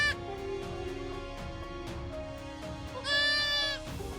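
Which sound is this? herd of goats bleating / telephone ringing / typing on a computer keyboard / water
herd of goats bleating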